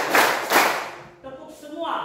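A classroom of students clapping in counted rhythm, two loud group claps in quick succession followed by a quieter patter of claps.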